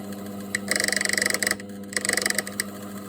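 A mini lathe hums steadily while turning a metal robot part, with rapid chattering bursts of scraping and a brief pause between two cutting passes.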